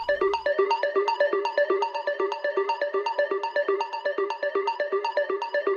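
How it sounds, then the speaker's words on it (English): A dry, unprocessed synth arpeggio from a deep, melodic progressive house track plays alone, a steady fast run of plucky, bright repeating notes without reverb or delay. "So if I play this arp by itself"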